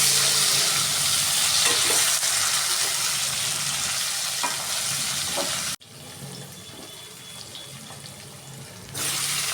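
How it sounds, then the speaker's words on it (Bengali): Katla fish pieces coated with turmeric and salt sizzle steadily in hot oil as they are stirred, with clattering touches of the utensil; the frying noise drops abruptly partway through, then continues more quietly before swelling again. "খুব ভালো করে সেই তেলের মধ্যেই আমি ভালো করে একটু নাড়াচাড়া করে নিচ্ছি"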